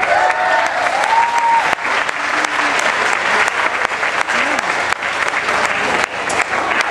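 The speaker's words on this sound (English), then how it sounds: "please give a nice round of applause to Julie Sœur de Saint Jean." Sustained applause from a large crowd at a country singing contest, dense steady clapping filling the whole stretch, with faint cheering and voices mixed in.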